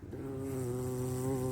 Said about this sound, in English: There's a bumblebee.